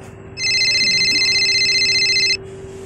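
A telephone rings for an incoming call in a Hindi short film: one steady, loud electronic trill lasting about two seconds, starting and stopping abruptly, heard alone against a quiet room with no talking.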